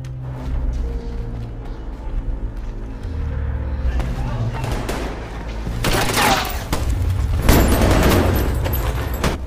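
Gunfire rings out in a film scene set in a dark cartel smuggling tunnel, with a narrator talking throughout. Sharp shots and bursts cluster around the middle and later seconds, loud over a rumbling background.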